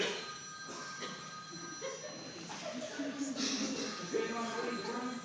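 A telephone bell rings in a domestic drama scene, with repeated bright tones under overlapping voices and room noise.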